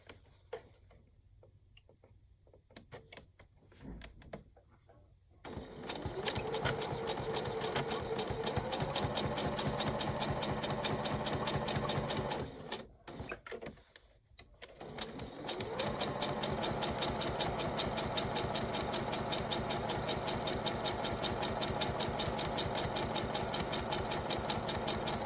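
A sewing machine stitches a snap-on bag with right sides together, running steadily in a rapid, even ticking whir that stops briefly for a pivot at a corner, then resumes at full, close, continuous speed.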